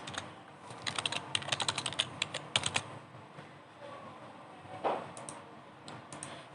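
Fast typing on a computer keyboard during work on a Delta PLC temperature-measurement program, with close clusters of crisp key clicks in quick bursts and then a pause before a lone softer tap.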